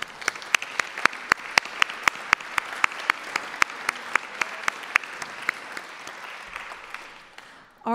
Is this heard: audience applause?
yes